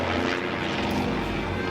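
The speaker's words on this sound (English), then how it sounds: "a biplane crashed during the Kansas City Air Show after the plane appeared unable to get out of a downward" Biplane engine droning steadily at a Kansas City air show as the aircraft spirals downward out of control, a loud continuous propeller roar filling the short stretch.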